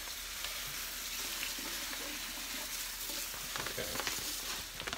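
Grain for an American stout is gradually mashed into hot water in a BrewTools B80pro all-in-one brewing system, a dense continuous pouring and rustling hiss with small splashes and knocks, no speech.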